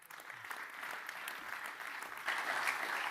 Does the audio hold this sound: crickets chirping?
no